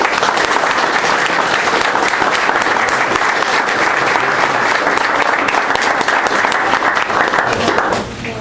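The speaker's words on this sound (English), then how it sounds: "So let's give a round of applause." An indoor audience at a state rural health proclamation presentation breaks into loud, sustained applause for about eight seconds before it tapers off at the end.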